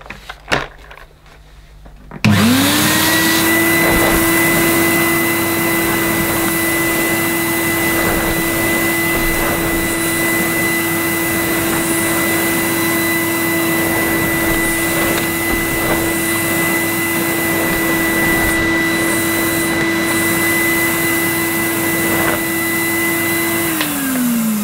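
Cream and brown Numatic Henry vacuum cleaner, made in West Germany, switches on with a quick spin-up and then runs with a steady loud whining drone while pushed across carpet, close by and uninterrupted.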